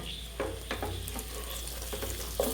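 Chicken fries in a kadai with a steady sizzle, stirred now and then with soft scraping clicks, close and moderately quiet.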